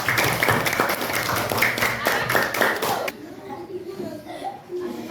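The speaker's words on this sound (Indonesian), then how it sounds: "Oke, tepuk tangannya semua." A group claps together in a classroom coaching session, brisk clapping for about three seconds that stops abruptly, followed by quieter room sound with voices.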